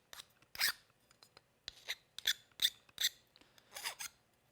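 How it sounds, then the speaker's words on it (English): A metal file rasps burrs off the edge of a freshly cut metal piece, seven or eight short, separate scraping strokes at an uneven pace, close and clear in an otherwise quiet room. "I'm going to go ahead and hit that with a file"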